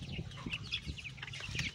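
Hens cluck softly and continuously in a backyard flock on a windy, clouded hillside at dusk, a faint murmur of chicken sounds close by.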